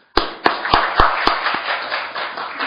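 Applause from an audience at a panel discussion starts sharply, with several loud distinct claps at first that blend into a dense, steady wash of clapping.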